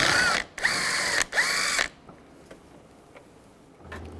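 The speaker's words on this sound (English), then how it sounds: "Take that screw out." Three quick whirring bursts from a power drill with a 10mm socket back out a screw on the door of a 1999-2006 Chevrolet Silverado, close and loud, then faint clicks and handling noise.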